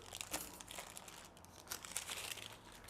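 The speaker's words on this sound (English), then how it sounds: "Try to get rid of this parchment paper." Parchment paper being peeled away from a fully cooled cake baked in an air fryer oven, a soft, continuous crinkling and rustling that is faint and close, with no speech.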